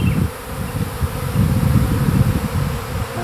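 A spring swarm of honeybees buzzing outdoors, a dense, continuous droning hum from many bees, loud and close, with no talking.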